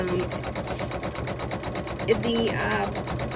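An embroidery machine stitches a SpongeBob design onto a towel, its steady rapid needle rhythm running through the whole stretch alongside faint background voices and a few brief tonal chirps.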